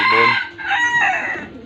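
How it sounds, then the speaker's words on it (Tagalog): Pet rooster crows loudly and close by, a single drawn-out cock-a-doodle-doo with some clucking around it, with no talk. "yung ating mga alagang ibon"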